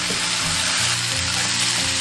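Crab pieces coated in starch fry in a pan alongside fish, giving a loud, steady, close sizzle with no pauses.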